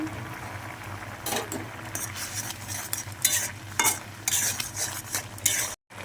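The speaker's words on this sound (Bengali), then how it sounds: "এবার অনবরত নাড়ব" Half an egg with a pinch of salt is stirred without pause in a hot pan, the spoon scraping and clinking in irregular bursts over a steady low sizzle, close and fairly loud with no talk.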